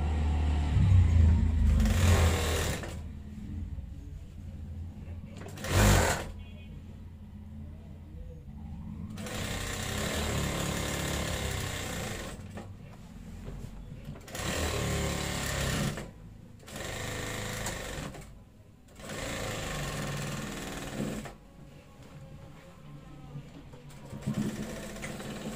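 A sewing machine stitching the pocket of a school kameez with a round shirt collar runs in loud, rapid bursts of several seconds each, stopping between runs, with quiet handling of fabric in the pauses.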